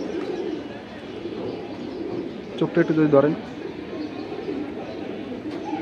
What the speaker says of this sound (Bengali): সুন্দর কবুতর